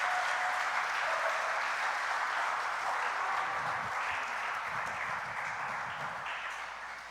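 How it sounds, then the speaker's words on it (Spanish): Loud, sustained applause from a church congregation praising the Lord, dense clapping that stays steady and then tapers off gradually near the end, with a few low thumps mixed in. "Le damos un fuerte aplauso al Señor."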